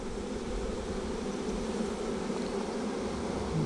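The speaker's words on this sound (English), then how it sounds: "Bees, get out of the way." Honey bees from a newly installed package swarm and buzz at a hive in Central Texas, a dense, steady drone close by that holds throughout without a break.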